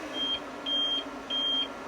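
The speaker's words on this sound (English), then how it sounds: "Every so often it'll beep until it gets to the point where it doesn't know how much battery's left." An APC Smart-UPS 1500 battery backup beeps three times in a steady pattern while running on battery, each tone a clear sustained note over a low background hum, with no voices.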